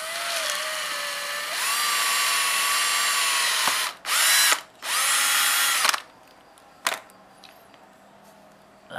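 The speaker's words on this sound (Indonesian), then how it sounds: "kita lubangi." A small power drill whines as it bores a hole through scrap material for a homemade alcohol cannon's igniter, in a long run followed by two shorter bursts, then a quiet stretch with a faint click.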